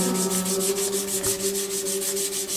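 Steel guitar frets rubbed with 320 grit sandpaper in quick back-and-forth strokes, a close, rhythmic scratchy rasp repeating steadily over a faint background hum.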